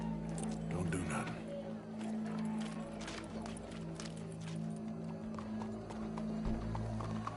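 Horse hooves clip-clop in a PS4 video game, steady hoofbeats and soft whinnies over a low game hum, with someone talking faintly underneath.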